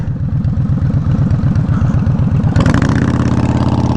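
A Yamaha Warrior 1700 motorcycle engine idles with a rapid, lumpy exhaust pulse through a short 2x2 exhaust, loud and close, rising into a brief rev partway through.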